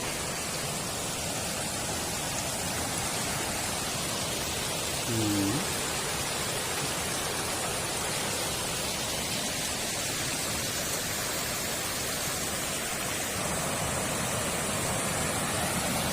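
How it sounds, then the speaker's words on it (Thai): Huai Ta Poe waterfall in Mukdahan, Thailand pours in a dense, steady broadband roar that fills the whole stretch at close range, with one brief faint tonal blip partway through. "น้ำตกห้วยตาเปิด"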